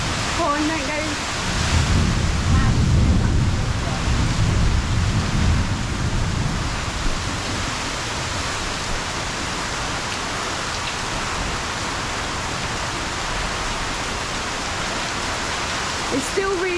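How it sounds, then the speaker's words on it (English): A massive thunderstorm at John's Pass, Madeira Beach, Florida, with heavy rain pouring steadily and a deep roll of thunder near the start, plus brief voices reacting. "Oh my god, that's proper thunder."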